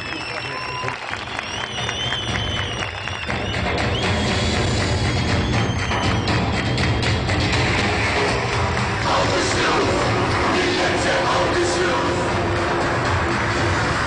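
A crowd at a Turkish political rally in Gönen, Balıkesir breaks into applause, a dense, roaring clatter of many hands that swells after a few seconds and stays loud and sustained, with a voice over the start.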